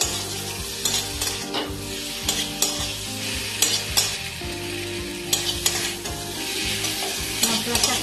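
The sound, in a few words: fried potatoes being stirred with spices in a pan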